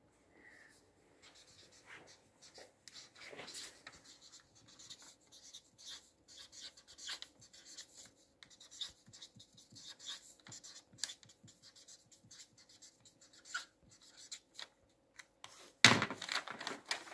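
A pen scratches across a paper airplane, giving faint, close, intermittent strokes in short bursts with brief pauses, followed by a sharper rustle of paper at the end.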